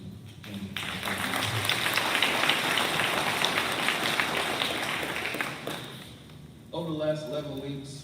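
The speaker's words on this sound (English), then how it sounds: "Please give a round of applause for these great ladies and gentlemen." At a graduation ceremony, a crowd bursts into loud, sustained clapping that runs about five seconds before fading, with someone speaking briefly before it and again after it dies down.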